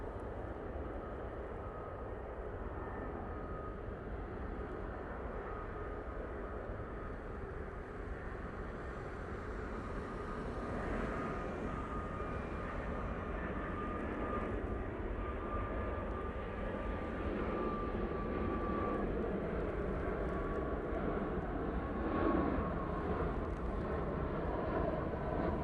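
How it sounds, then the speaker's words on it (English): A Finnair airliner comes in to land, its engine roar a distant, steady rumble that builds slowly and stays faint against the open air. "Right, Finnair coming in."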